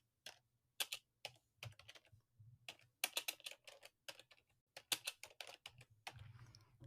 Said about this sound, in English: So I'm typing with my left hand